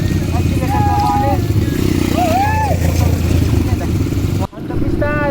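A dirt bike engine runs steadily at the MX club in Sheung Shui, a loud, close, buzzing drone that rises and falls as it revs, with people talking over it.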